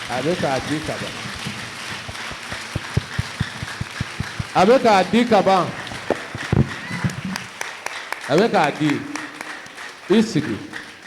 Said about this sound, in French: Applaudissons pour le Seigneur Jésus car il a été donné.